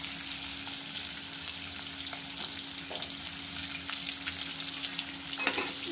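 Chopped onions fry in hot oil with cinnamon for an egg and cauliflower curry, giving a steady, even sizzle with no talk and a few soft clatters near the end.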